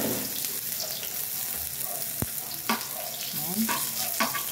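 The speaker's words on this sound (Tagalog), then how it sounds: "mahalo-halo ko naman ang sibuyas at saka bawang" Onion and garlic sauté in hot oil with a busy, crackling sizzle. A few spoon scrapes and taps against the pan sound up close, and there is no talk.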